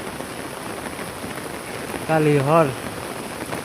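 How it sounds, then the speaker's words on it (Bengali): Steady rain falls on a village in Purbadhala thana, Netrakona, a continuous hiss of drops on surfaces, while someone briefly speaks over it midway. "আমরা এই যে বৃষ্টি হইতাছে নেত্রকোনা পূর্ববেলা থানা"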